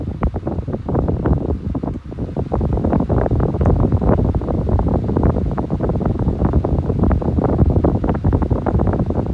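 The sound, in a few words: SMC 40-watt 12-inch electric desk fan running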